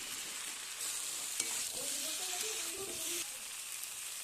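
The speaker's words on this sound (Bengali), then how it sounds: "এবারে পটলটা দিয়ে একটু কষিয়ে নেব, দিয়ে জল ঢেলে দেবো।" Pointed gourd sautéing in a pan, a faint steady sizzle and hiss with soft stirring scrapes, close and continuous without talk.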